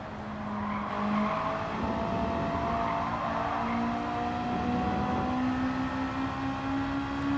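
1960s Honda sports car in Gran Turismo 7 lapping the Nürburgring, a high-revving small engine whining steadily and climbing in pitch through gears, with faint tire squeal under a constant drone.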